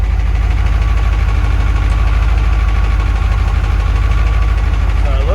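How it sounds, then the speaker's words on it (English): Tractor engine runs close and loud with its PTO shaft spinning, a steady, even idle with a faint knocking rhythm and no talk over it. "You see the PTO spinning away."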